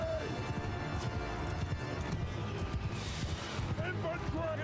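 Cavalry horses galloping across a desert battlefield in Mount & Blade II: Bannerlord, a steady rumbling patter of many hooves with distant clashing and faint gunshot-like cracks, while someone talks over it.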